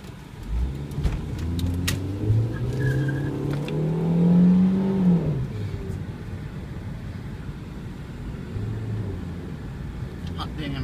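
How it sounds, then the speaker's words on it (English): A car drives past on a road with a rising and falling engine drone that peaks and then fades, heard at moderate distance amid outdoor background noise. "Car's coming."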